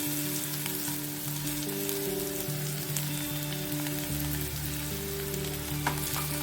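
Ivy gourd pieces sauté in an open pan with a continuous soft sizzle and crackle, close by and moderately quiet, with a few faint stirring scrapes and no voices.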